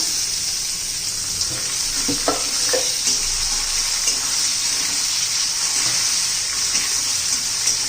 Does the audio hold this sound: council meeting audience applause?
no